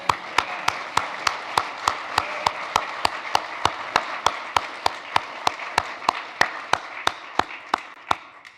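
A church congregation at a Sunday service claps after a quartet's music, a fairly close run of steady, evenly spaced sharp claps over a softer patter for about eight seconds.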